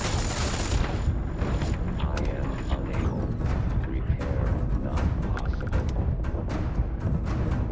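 Loud video game explosions boom and rattle on a moon map as soccer balls get knocked around, producing a dense, continuous barrage of crashes and mechanical clatter.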